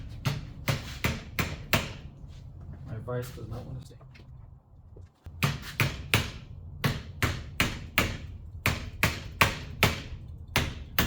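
Heavy hammer blows strike a Bravura trumpet clamped in a vise, a rapid series of loud, sharp metallic impacts in bursts, with a pause where someone speaks before the pounding resumes.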